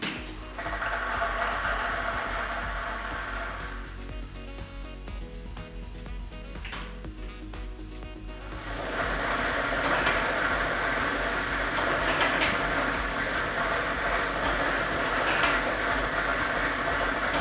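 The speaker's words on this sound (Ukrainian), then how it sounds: "І ми вмикаємо лототрон" Lottery drawing machine running for a Ukrainian state lottery draw, a steady loud whirring rumble of tumbling balls that dips briefly in the middle and then swells back to a constant churn.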